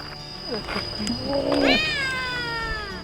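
A cat meowing outdoors on Jeju Island in South Korea, one drawn-out rising and falling meow close by, preceded by a few softer chirping calls over quiet background.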